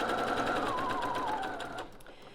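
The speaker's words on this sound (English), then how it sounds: "then I'm going to sew on the drill side. I'm using the red line on my machine, which is the 1/4 inch seam allowance" A sewing machine runs steadily for about two seconds, stitching denim quilt pieces along a quarter-inch seam, then winds down and stops, with no talking.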